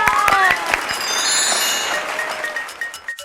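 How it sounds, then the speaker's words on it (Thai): Audience clapping on a Thai talk show, a steady crowd patter with a few glassy clinks, fading toward the end while someone speaks over it. "เราทุกคนมาปรบมือให้กำลังใจพี่จ๋ากันค่ะ"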